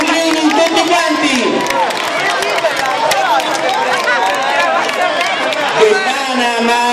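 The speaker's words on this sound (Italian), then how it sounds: "Facciamo tutti insieme un bel applauso per la Befana" A crowd of parents, children and relatives at a Befana celebration in Cannara applauds, a continuous wash of clapping with cheering and voices mixed in, loud and close for several seconds.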